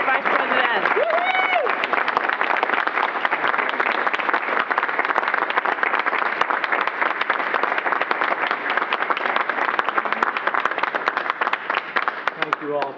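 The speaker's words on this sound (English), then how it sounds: "All right, folks, one more round of applause." A crowd at NASA Mission Control applauds the Vice President with sustained, dense clapping that stays loud and even for about thirteen seconds, with a voice briefly audible near the start.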